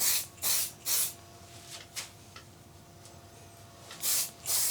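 Activator sprays onto a wooden platter turning on a lathe in short close hissing bursts, two quick ones, a couple of faint puffs, then two more, over a low steady hum.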